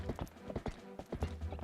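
Horse hooves clip-clop in an even, trotting rhythm in the video game Zelda Twilight Princess HD, moderately close and fairly quiet, with no speech over them.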